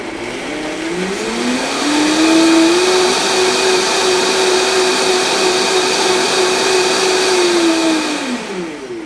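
A hand blender blending soup whirs up to a steady high-pitched drone, holds for several seconds, then winds down, loud and close.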